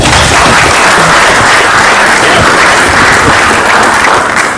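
A large audience applauds veteran officials at an officials' camp education session, a loud, dense and steady clapping that holds without a break for several seconds.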